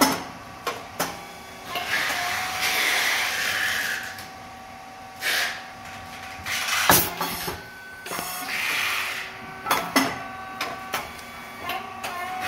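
A SYP9002 rice cake machine runs in a factory test, giving a series of sharp, irregular mechanical clacks and hissing bursts, with one loud bang near the middle over a steady low hum.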